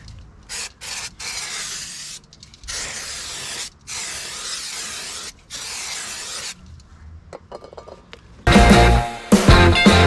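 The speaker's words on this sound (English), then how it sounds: "What we're going to do is just take care to spray this" Close aerosol spray of brake cleaner hisses in several long bursts separated by short pauses, aimed at the rear brakes of a 2010 Kia Sorento, followed by a louder clatter near the end.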